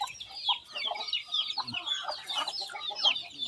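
Hens and newly hatched chicks cluck and peep together close by, a busy overlapping chatter of short calls that runs without pause.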